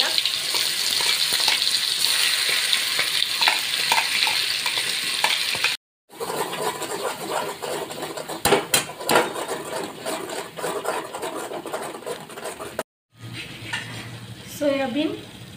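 Masala stir-frying in hot oil, a continuous close sizzle with scraping stirs and occasional clinks of the utensil against the pan, broken by two brief silent cuts.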